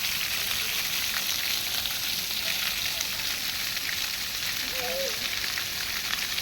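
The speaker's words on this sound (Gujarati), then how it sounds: "વરસાદ આવ્યો ભાઈ" Steady rain falling outdoors, a dense continuous hiss like sizzling with faint distant sounds mixed in, no clear speech.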